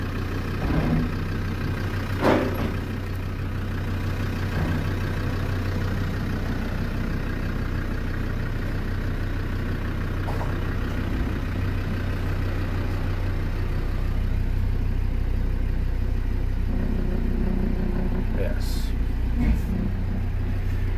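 A Land Rover Defender 130 TD5 Single Cab with a Discovery 2 automatic gearbox runs on its first drive, a steady low diesel drone with occasional knocks and rattles from the cab.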